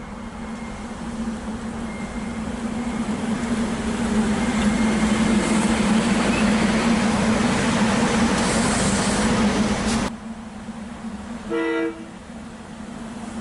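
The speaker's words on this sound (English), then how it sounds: "a passenger train stops" A passenger train arriving and stopping, a steady loud rumble that swells and then eases, followed by a short horn toot near the end.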